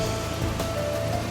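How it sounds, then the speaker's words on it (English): Rain falls steadily in a Tesco parking lot, a soft, even hiss of drops on the surfaces around, fairly faint and continuous, with a low hum running underneath. "it just started raining"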